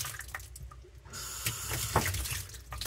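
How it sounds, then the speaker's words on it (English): Tap water runs steadily into a clogged bathroom sink basin, a continuous close splashing hiss with small dips and surges and no talk over it. "I'm going to run the water, and what's going to happen, all of this water is going to come out right through here."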